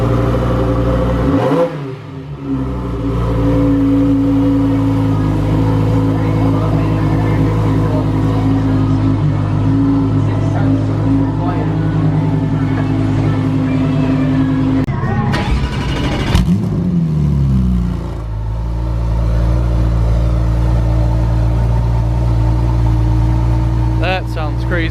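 A custom Lamborghini at an upscale car show roars loud and close through repeated revs, with a sharp surging burst midway, while people chatter around it.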